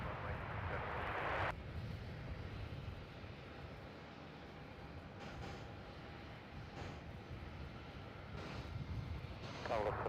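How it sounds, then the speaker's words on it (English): A Qantas airliner rolls for takeoff on runway 27 at Melbourne Airport, a broad distant engine roar holding steady, with a louder burst of noise at the start and faint radio-style chatter cutting in briefly. "runway 27, cleared for takeoff"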